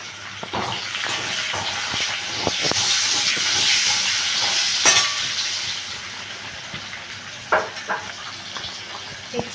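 Chopped onion and spices frying in hot oil for a pointed gourd (potol) curry, a steady close sizzle and hiss with occasional stirring clatters and scrapes of a spoon in the pan.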